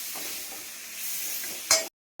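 Green banana frying in oil with bay leaf, dried red chillies and green chillies, a steady soft sizzle with light stirring, then a brief louder burst just before it cuts off.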